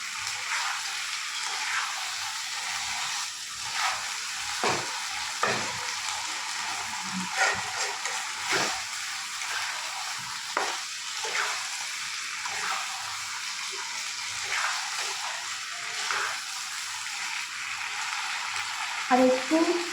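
Chicken pieces sizzle in their own released oil while being stirred for a white chicken dish. A constant frying hiss runs throughout with intermittent spatula scrapes and clinks, moderately loud and close, with no talking.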